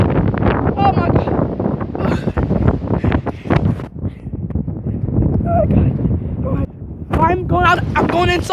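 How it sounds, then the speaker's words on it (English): Strong storm wind buffets the microphone outdoors in a tornado-force gale, a loud continuous roar with gusts, while a frightened person talks throughout. "It's too windy out here."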